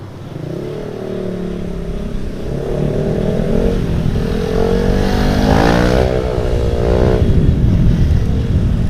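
TBS 150 motorcycle riding through congested traffic, a steady engine drone that swells as the rider accelerates, with other vehicles around and rising revs toward the end.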